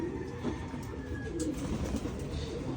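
Soft cooing of racing pigeons murmurs faintly beneath a constant wash of background noise, low and indistinct, with no speech.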